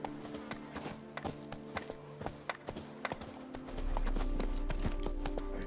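Horse hooves clip-clop at a steady trotting rhythm in The Witcher 3 video game, close and clear over ambient game music, with a louder low rumble joining near the end.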